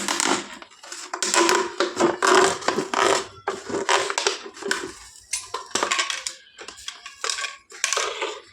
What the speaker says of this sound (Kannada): ಇವಾಗ ಈ ಬಿಸಿಯಾಗಿರೋ ಚಾಕುವಿಂದ ನೋಡಿ ಈ ಹಿಂದೆಗಡೆ ಪೋರ್ಷನ್ನ ಕಟ್ ಮಾಡ್ಕೊಂಡಿರ್ತೀನಿ ನಾನು